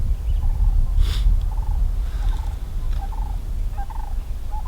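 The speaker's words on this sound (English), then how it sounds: "There's another bird gobbling over here." A wild Merriam's turkey gobbles in mountain country, its rapid warbling calls coming from a distance again and again through nearly five seconds. Faint chirps and a steady low outdoor rumble sit underneath, and nobody speaks.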